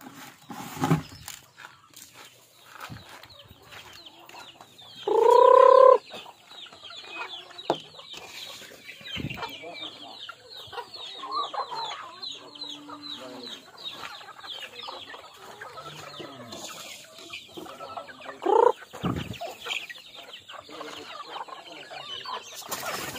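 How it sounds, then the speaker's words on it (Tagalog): Chickens cluck on a rural farm at feeding time, with scattered nearby clucks and one loud, drawn-out crowing call standing out, plus a second shorter one later over faint background farm noise. "so nagpakain ako ng manok"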